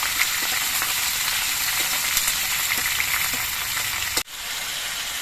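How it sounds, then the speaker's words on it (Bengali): Ridge gourd frying in a pan for a ridge gourd and potato posto makes a dense, steady sizzle with faint stirring clicks scattered through it. The sound drops out briefly just before the end. "এবার কিছুক্ষণ নাড়াচাড়া করে ঝিঙেগুলো ভেজে নিতে হবে"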